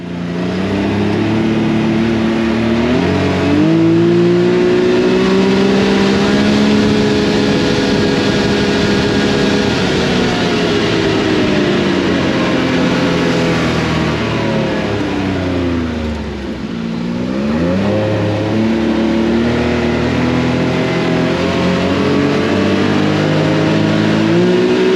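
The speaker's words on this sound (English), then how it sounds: "this was me testing the Can-am to see how fast it goes in low" A Can-Am UTV engine revs hard and accelerates in low gear, a loud sustained mid-pitched drone that climbs in pitch, dips briefly near the middle as the throttle eases, then rises and holds again, with no talking.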